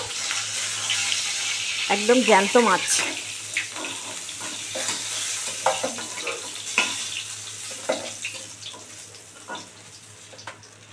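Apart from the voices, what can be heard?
foli fish frying in a pan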